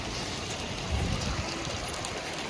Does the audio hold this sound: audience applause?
no